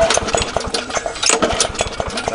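A neglected walk-behind lawn mower with a cleaned-out carburetor runs on its small gasoline engine, chugging in a fast, uneven rhythm, close and loud with no talking.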